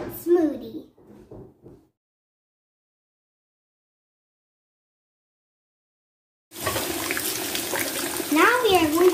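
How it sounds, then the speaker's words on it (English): Blueberries being washed under running water bring a steady splashing flow that starts abruptly after a silent gap and continues loud and close, with people talking over it and briefly before it. "Now we are going to wash the blueberries."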